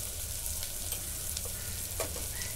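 Potato and green pea curry sautéed in a pan, giving a continuous close sizzle with soft scraping strokes of a spoon across the pan and a couple of light clinks, no voices.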